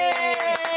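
Hands clap at a family birthday celebration at home, four quick, evenly spaced claps over a sustained musical tone in the background.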